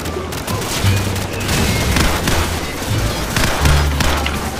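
Gunfire from Captain Price in the video game Call of Duty 4: Modern Warfare, a dense run of repeated shots and booms over a continuous loud combat din.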